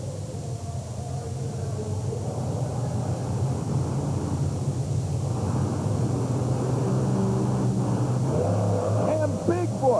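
A Bigfoot Ford monster truck pulls away from the starting line at an indoor USHRA race in Worcester, 1991, its engine a loud, steady roar that builds slightly while an announcer talks over it.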